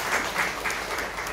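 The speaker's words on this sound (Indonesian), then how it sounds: "Tepuk tangan bagi Yesus." A church congregation clapping together during a service in Jakarta, a moderately faint, rhythmic patter of many hands with no talk.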